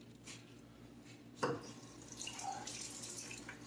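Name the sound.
rinsing leaves under running water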